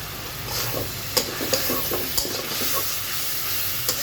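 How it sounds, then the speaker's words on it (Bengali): Onions fry over lowered heat in a pan, a steady soft sizzle with occasional light clicks of a spoon, no talking. "পেঁয়াজটা আগুনটা একটু কমিয়ে দিয়ে পেঁয়াজটা ভাজা হতে হতে"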